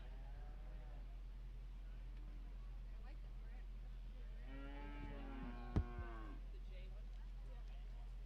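Angus cow-calf pairs at a Sheridan County Fair livestock show moo in a few drawn-out, low calls clustered near the middle, set against a steady hum and faint arena noise, with some talk nearby.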